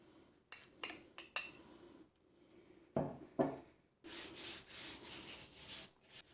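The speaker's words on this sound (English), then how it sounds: "Quarter of the sugar butter mixed on the dough, and I spread it evenly." A utensil scraping and rubbing as sugar butter mixture is spread across dough for Finnish cardamom buns, with short spaced strokes followed by a longer run of steady, close scraping.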